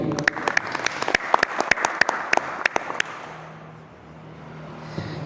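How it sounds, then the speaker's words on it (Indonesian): A small seminar audience claps briefly for two speakers, with distinct individual claps for about three seconds before fading into quiet room noise. "Kita berikan apresiasi terlebih dahulu dengan tepuk tangan untuk kedua pemateri."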